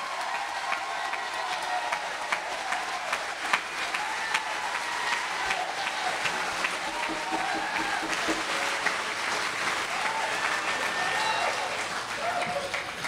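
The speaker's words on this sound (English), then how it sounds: "How about a round of applause, homecoming, for Mr. Lawrence Leathers and the drums and cymbals." A jazz festival audience applauds a drummer after a quartet's opening number, with sustained dense clapping mixed with crowd murmur and some voices throughout.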